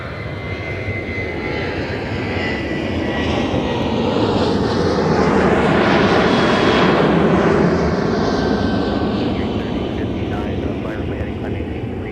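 Airliner engines roar steadily during a go-around at Minneapolis–St. Paul airport, loud and close, swelling to a peak midway and sustained throughout with a broadband rumbling and whine; people talk faintly over radio chatter.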